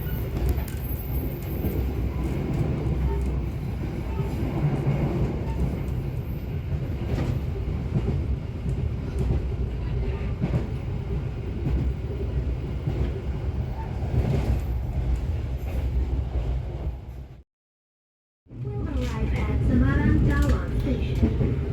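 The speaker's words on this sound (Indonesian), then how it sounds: "Kereta api Sembrani sesaat lagi akan tiba di stasiun Semarang Tawang" Sembrani passenger train rolling on rails on the approach to Semarang Tawang station, a steady close rumble of wheels and carriage noise that drops out briefly near the end before returning.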